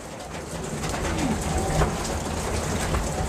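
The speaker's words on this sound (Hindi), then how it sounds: "ये भी जेठिया कबूतर है, बंद दुम का" A closed-tail Jethiya pigeon gives soft, low coos amid rain and outdoor background noise.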